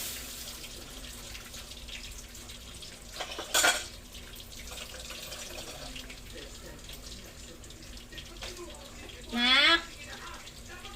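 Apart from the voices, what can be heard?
washing dishes with running water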